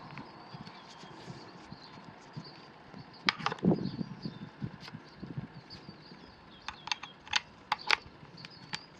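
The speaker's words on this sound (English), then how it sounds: "all you got to do is pull this collar out" A chuck collar on a Milwaukee M12 subcompact brushless drill is pulled out and released, giving a few close, sharp plastic clicks and snaps over faint background hiss.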